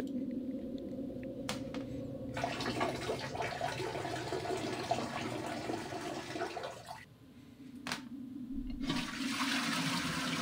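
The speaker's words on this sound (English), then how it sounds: "Flush, flush, flush." A toilet flushing in a quiet room: a loud, steady rush of water lasting several seconds, then a short pause and a second surge of water swirling in the bowl, with no talk over it.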